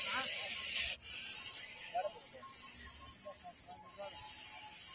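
A Russell's viper hisses in a loud, continuous, steady rush that runs through the whole clip, with two brief pauses for breath, while someone talks faintly underneath.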